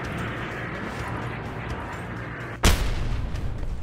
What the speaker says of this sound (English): There's the rockets.